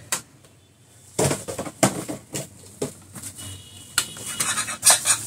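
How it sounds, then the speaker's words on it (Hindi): A camping cookware set with a pot and tea kettle is handled close up, giving a series of sharp metallic clinks and clanks at irregular intervals, some quick in succession, with no talking. "मैं दिखाता हूँ आपको बर्तन का सेट"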